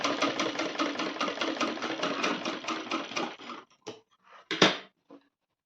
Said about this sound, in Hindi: देखिए इस तरीके से इस पर डबल सिलाई कर लेंगे।